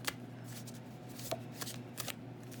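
Tarot cards are shuffled with soft riffling flutters and a few light snaps as one card is picked, quiet and close with no talk.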